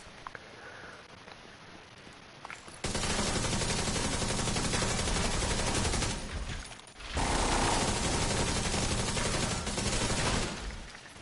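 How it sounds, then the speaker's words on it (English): Rapid shotgun blasts from The Division 2 come in two sustained, loud bursts of dense fire, separated by a brief lull, after a quieter opening. "This shotgun hits like a fucking beast."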